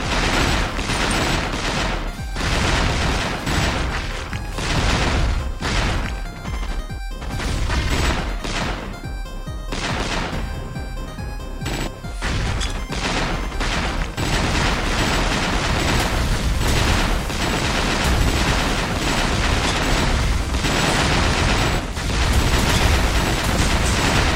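Dense, continuous explosions and gunfire from the top-down shooter Bugs Must Die, with tanks, cannons and a mine layer in the fight, booming and crackling loudly without a break and with no talking over it.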